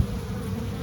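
Honeybees swarm around busy hives during a tree bloom, giving a steady, dense buzzing drone that holds close and even throughout, with no voices.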